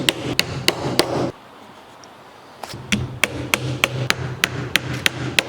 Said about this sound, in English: We need to take ourselves a hammer, and we need to tack them down